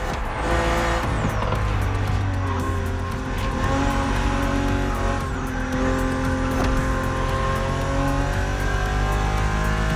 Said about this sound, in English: Your car is the Z4 E89, a very cool model for two major reasons.